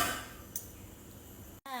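A metal lid set down on a cooking pot of sautéed tomato, onion and garlic with eggplant, a single light clank near the start followed by a brief clatter at the end, close and fairly quiet.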